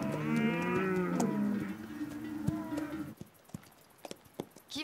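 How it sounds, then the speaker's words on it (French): Bulls on a farm lowing loudly and close by, several overlapping drawn-out moos that fade after about three seconds and leave faint rustling and knocks. "On va retrouver Arnaud et ses taureaux"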